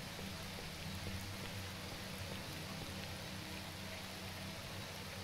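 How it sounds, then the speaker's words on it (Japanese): Steady rain falling in the video game S.T.A.L.K.E.R. Shadow of Chernobyl, a continuous even hiss of drops on surfaces, moderately quiet and unbroken, with no voices. "雨降ってんな。"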